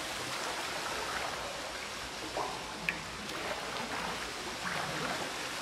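Geralt swims through water in The Witcher 3, a continuous wash of splashing and rippling with faint strokes surfacing now and then, steady and unhurried.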